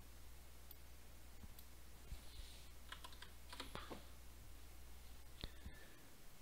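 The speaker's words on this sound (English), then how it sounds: "now I can type Ctrl+Shift+B and see the application build in the terminal" Keys are pressed on a computer keyboard to run the Ctrl+Shift+B build shortcut in VS Code, a few quiet, close clicks and taps scattered over a low steady hum.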